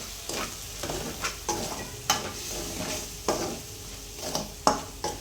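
Chili, salt and turmeric masala is stirred in a pan over a soft frying sizzle. A spatula scrapes in repeated, rhythmic strokes, and metallic clinks sit close and clear.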